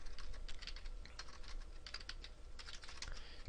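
Rapid keyboard typing while entering Python code on a computer, a steady run of close, crisp key clicks with no talking.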